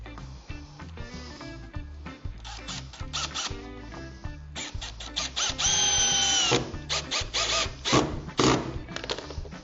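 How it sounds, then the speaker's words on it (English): A power drill pre-drills holes in a PortaGlass door frame, sounding as repeated close, loud bursts of whirring motor with a sustained high whine in the middle as the bit bores through. "This is the one I did not pre-drill, so I will do that one right now."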